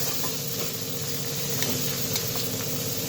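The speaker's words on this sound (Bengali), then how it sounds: "কাঁঠাল বিচিটা ছেড়ে দিলাম। একটু ভালো মতন কষিয়ে নেব।" Jackfruit seeds sauté in hot oil in a pan, giving a steady, loud sizzle and hiss with faint scraping and stirring, with no voices over it.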